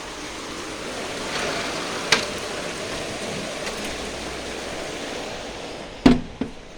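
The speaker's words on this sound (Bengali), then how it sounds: "বৃষ্টিতে ঘর ভিজে যাইতেছে।" Heavy rain falling outside a window, a dense, steady hiss of drops throughout, close and fairly loud, with a couple of brief knocks near the end.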